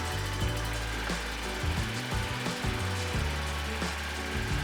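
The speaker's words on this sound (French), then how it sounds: "Et écoutez, ça démarre plutôt bien avec un allumage électronique." A Citroën 2CV engine with electronic ignition runs with a fast, steady, low chugging pulse. It is fairly loud and close, with no voices.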